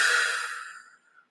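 One slow, deep exhale through the nose during a relaxation breathing exercise, a soft, airy breath close to the microphone that fades steadily into silence.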